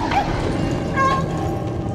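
Dog in the stealth action game Dishonored gives a short yipping bark or two amid busy game ambience.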